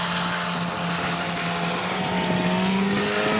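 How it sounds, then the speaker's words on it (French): At an outdoor stunt show in Sancoins, a stunt car revs hard in a steady, loud, continuous roar as it heats its tyres. The engine pitch climbs slightly toward the end. "Il rattrape son véhicule, il fait chauffer sa pneumatique."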